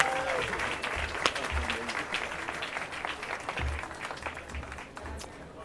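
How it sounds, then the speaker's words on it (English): A crowd applauds Brett Ratner at his Hollywood Walk of Fame ceremony, steady outdoor clapping with scattered cheers running the whole time under a faint voice. "A big round of applause for Brett."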